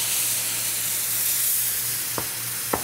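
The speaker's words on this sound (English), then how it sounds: "At this point now, you want to pour some of that port wine on them" Port wine poured over filet mignon searing in a hot pan sets off a loud, steady sizzle and steam hiss that runs throughout, with a couple of sharp clicks near the end.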